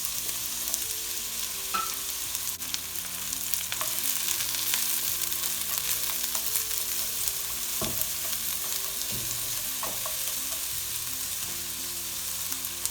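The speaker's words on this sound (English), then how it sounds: "get some fried onion on the go" Chopped onion fries in a pan for a BIR-style sheek kebab, a constant close sizzling hiss with occasional clinks and scrapes of stirring, steady throughout and free of talk.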